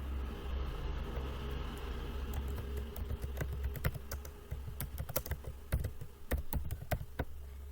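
Close, crisp keystrokes on a computer keyboard while text is edited in the Axure RP prototyping tool, scattered irregular taps over a steady low hum.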